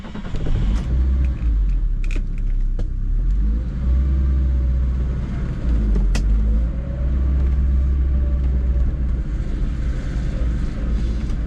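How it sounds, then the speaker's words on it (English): A 1974 BMW 2002 tii engine drones steadily on a test drive, a continuous close rumble of road and motor with slight rises in revs, with no talking. "we're going to go for a test drive in my 1974, my unair-conditioned 1974 BMW 2002 Tii"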